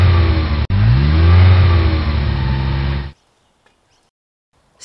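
A car engine revs loudly and close as the accelerator is pressed, the pitch rising and falling in a sustained roar for about three seconds before cutting to near silence.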